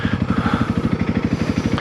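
A Honda CRF300L with a Stage 1.5 setup idling close by after being ridden hard, its single-cylinder engine putting out a steady, rapid, even throb of low pulses.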